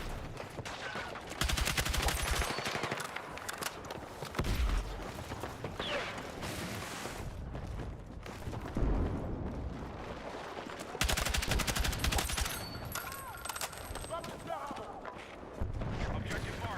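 Bursts of automatic gunfire crackle in the game Battlefield 6, loud rapid volleys alternating with quieter stretches of distant shots, mechanical clanks and a player talking over the action.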